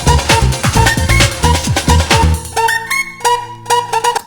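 A rave stab sample from a classic hardcore track: punchy, loud synth chord hits in a driving rhythm over heavy beats, then sparser repeated stabs ringing out near the end.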